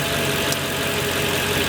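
A Mercedes C55 AMG V8 with a six-speed manual gearbox idles close by, a steady, even mechanical drone with a faint ticking running through it.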